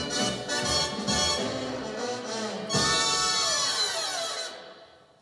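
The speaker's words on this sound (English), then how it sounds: "But you can hear that sizzle they get on that high note" A trumpet section holds a high major six chord with a bright, buzzing sizzle, the last chord of a big-band swing arrangement, swelling loud and then fading away.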